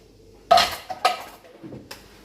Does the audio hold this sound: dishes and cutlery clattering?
yes